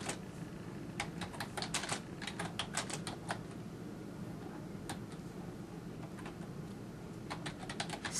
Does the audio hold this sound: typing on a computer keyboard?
yes